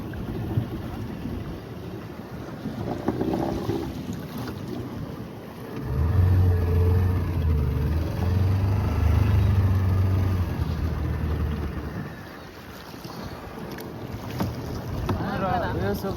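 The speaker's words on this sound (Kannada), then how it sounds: "ಸಮುದ್ರ ರಪ್ಪಿದೆ ನೋಡಿ ಗೆಳೆಯರೆ" Rough sea churning around a fishing boat out on open water, a steady loud wash of waves and wind rumble that swells stronger midway, with faint voices underneath.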